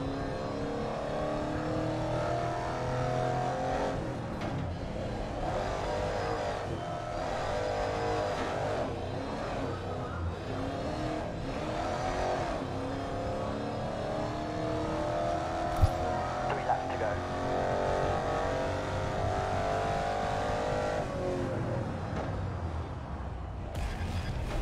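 A car engine in a street racing game revs steadily before launch, a continuous throaty drone with rising and falling pitch that runs under intermittent talk.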